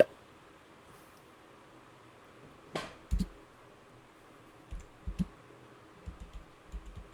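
Short bursts of computer keyboard typing and clicks sound close and quiet against a faint hiss, with scattered keystrokes separated by pauses and no speech.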